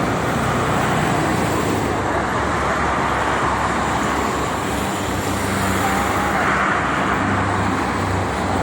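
Steady roadway noise from cars and trucks on the Jakarta–Cikampek toll road, a continuous broadband roar of passing vehicles with low engine rumble throughout, loud and unbroken with no talk.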